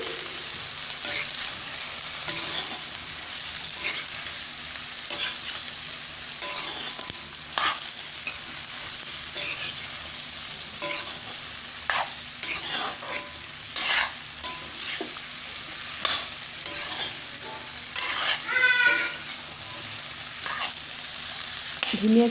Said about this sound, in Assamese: আৰু এতিয়া এখিনি ভালদৰে মই লৰাই লম।